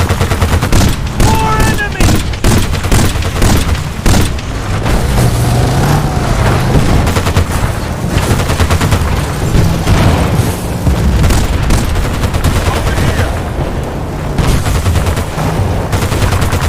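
Dense, loud gunfire in the video game Battlefield Bad Company 2: rapid machine-gun bursts and booming shots pound almost nonstop for more than fifteen seconds amid battle noise, with some talk mixed in.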